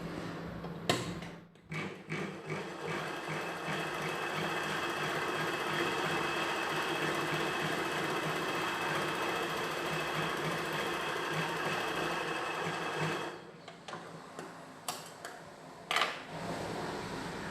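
Sewing machine running a long continuous seam on churidar pant cloth, a steady close mechanical hum for about twelve seconds, framed by brief clicks and fabric handling before and after.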